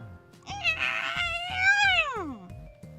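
A person imitates a cat, giving a single drawn-out meow that rises and then slides down in pitch, fairly close and clear, with a low rhythmic background underneath.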